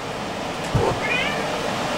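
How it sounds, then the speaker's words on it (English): A house cat gives a short meow that rises and falls, heard at moderate distance over a steady background hiss. "And my cat just came here"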